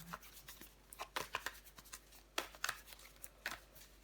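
Tarot cards being turned over one by one on a table, a sequence of soft, close, crisp flicks and taps with short pauses in between, faint and with no talking.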